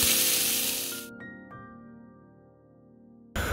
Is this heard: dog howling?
no